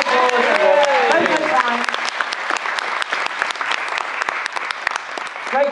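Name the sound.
audience applause at talent show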